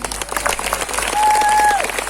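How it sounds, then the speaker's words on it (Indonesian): A crowd at a live religious gathering in Palangka Raya applauds for the police, a loud dense burst of clapping with a whistle-like tone cutting through midway. "Tepuk tangan untuk Polri."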